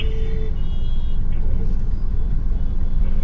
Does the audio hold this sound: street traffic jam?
yes